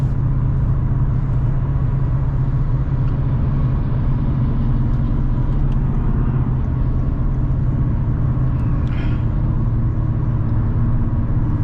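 A car drives along Ontario Highway 427, heard from inside as a loud, constant low road rumble and engine drone that stays steady without a break.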